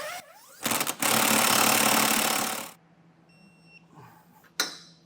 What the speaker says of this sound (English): we'll get them all torqued down